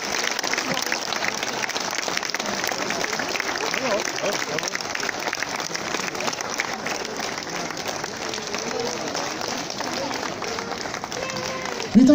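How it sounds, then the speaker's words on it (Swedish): Sustained applause from an audience at an evening event in a local heritage park, a dense steady clatter of many hands that holds at an even level throughout, with a louder burst at the very end. "får ge dem en stor applåd till"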